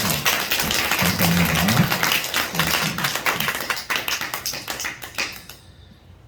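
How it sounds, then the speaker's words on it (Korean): A church congregation claps together in a dense, steady burst of applause that thins into scattered claps and fades out, while someone briefly speaks over it partway through. "우리 모두를 위해서 우리 하나님께 영광의 박수 올려드리도록 하겠습니다"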